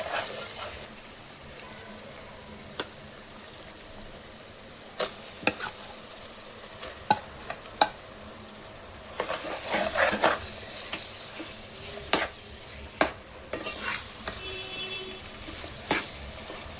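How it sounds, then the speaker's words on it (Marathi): Marinated paneer fries quietly in a pan for a quick paneer biryani, with a low sizzle under scattered clinks and scrapes of a spoon as it is stirred. Louder knocks and a short burst of activity come midway. "याच्यामध्ये मॅरिनेशन केलेलं पनीर टाकणार आहे."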